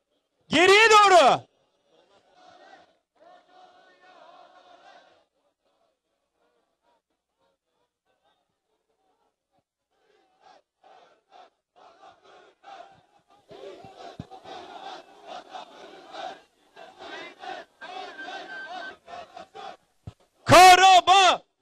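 A crowd at a rally marking the twentieth anniversary of the Khojaly massacre chants and shouts in bursts. The chanting is faint at first and grows louder and denser later, with loud amplified shouts at the start and end.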